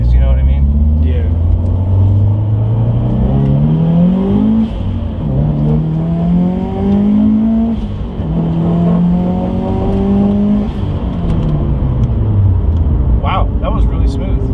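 A Scion FRS engine on air-bag suspension pulls hard through the gears, its loud rising drone climbing in pitch, dropping at each shift and climbing again. People talk over it inside the cabin.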